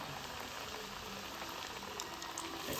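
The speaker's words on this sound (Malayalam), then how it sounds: "എന്നിട്ട് എണ്ണയിലിട്ടൊന്ന് പൊരിച്ചെടുക്കാം." Mussel and onion vada batter sizzles in hot oil, a steady, fairly faint crackling bubble throughout with no voices.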